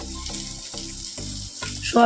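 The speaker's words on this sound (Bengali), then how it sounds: "পূজা এদিকে রান্না করছে সোয়াবিন" Steady sizzle of soybean chunks frying in a pan with a harmonic hum running underneath, ending in a brief louder clatter.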